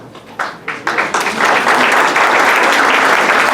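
Audience applause at a synagogue honoring event begins with a few separate claps, then swells quickly into loud, continuous clapping from the whole room.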